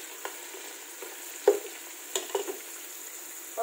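Cashews and raisins frying in oil for Thalassery mutton biryani: a soft, steady sizzle with a few scattered clinks and scrapes of stirring.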